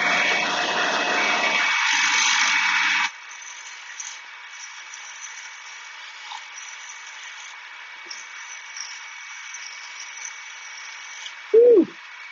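Shopsmith grinding wheel honing jointer knives, a harsh grinding burst for about three seconds, then the machine runs on with a faint high whine and a brief sharp noise near the end.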